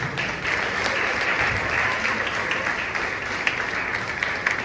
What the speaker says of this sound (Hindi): जरा नैमा के लोगों के लिए तालियां बजाओ।